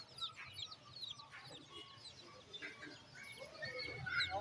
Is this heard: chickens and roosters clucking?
yes